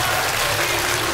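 An audience on a quiz show applauds for the Ninja team, a dense, even clapping that fills the whole moment without a break.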